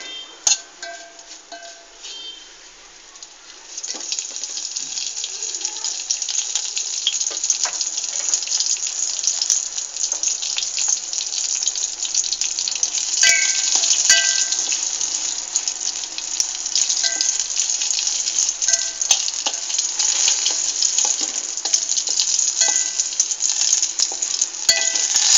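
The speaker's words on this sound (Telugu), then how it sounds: "పచ్చిమిర్చీలను కొంచెం ఆయిల్ వేసి దోరగా వేయించాలి." Green chillies fry in a little oil, a bright, crackling sizzle that begins after a short quiet start and then runs steadily, with scattered sharp pops and spatters over the constant hiss.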